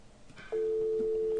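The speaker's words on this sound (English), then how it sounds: "now we're gonna dial to Spain" An outgoing phone call to Spain: after a short stretch of faint room sound, a single steady call tone starts abruptly and holds loud and even to the end, with no speech.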